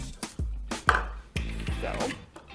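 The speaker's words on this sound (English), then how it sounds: "in a separate bowl, beat your egg" Egg being beaten in a separate bowl, a series of close, uneven taps and knocks of a utensil against the bowl with low thuds in between, and a faint voice underneath.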